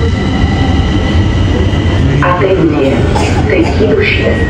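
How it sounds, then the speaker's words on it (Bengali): Steady rumble and rattle of an underground metro train in motion in Bucharest, Romania, with a continuous whine and clattering wheels; voices murmur faintly inside the carriage. "কোন বাংলাদেশের মেট্রো রেল, আন্ডারগ্রাউন্ড পাতাল ট্রেন"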